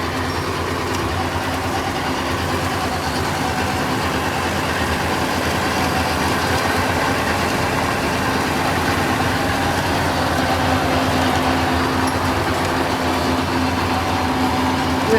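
A 90-horsepower tractor's heavy diesel engine idles steadily and continuously, a deep, even rumble close by with no pauses.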